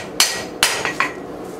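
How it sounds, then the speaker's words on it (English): A heavy blacksmith's hammer strikes hot steel while forging a Dutch oven lid lifter, landing four bright, ringing blows in quick, uneven succession with no talking. "We're going to get a little heavier hammer in our hand here,"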